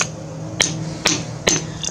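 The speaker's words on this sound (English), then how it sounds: "we're gonna go ahead and break these pieces up for the Rubble Rock with this hammer" Hammer striking and breaking rock pieces into rubble for an aquarium aquascape, three sharp, close, loud cracks spaced about half a second apart over a low room hum.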